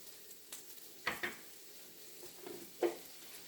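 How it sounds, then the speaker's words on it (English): Diced garlic sizzling in butter in a pan gives a soft, steady frying hiss, with a few brief clinks and scrapes from stirring over it. "I'm going to add to the butter, I'm going to add 1 clove of diced garlic."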